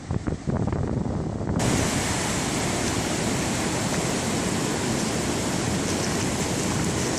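Steady roar of ocean surf rolling onto a big, deep white-sand beach near Sydney, loud and continuous with a broad wash of breaking waves and no voices.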